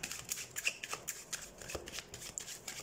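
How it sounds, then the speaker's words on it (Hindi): A deck of cards is shuffled up close, with quick riffling bursts and soft flutters repeating over a few seconds, fairly quiet and with no voices. "तो सबसे पहले हम कार्ड शफल कर लेते हैं।"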